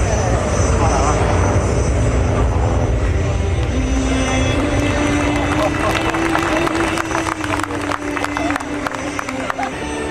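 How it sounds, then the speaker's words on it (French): An NH90 helicopter arriving at the Paris Le Bourget air show, a loud, steady engine and rotor roar filling the whole stretch alongside other aircraft noise, with a rising whine partway through and announcer talk mixed in. "Les Marseillais venus de Marseille, 2 hélicoptères."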